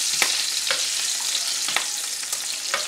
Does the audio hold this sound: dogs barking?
no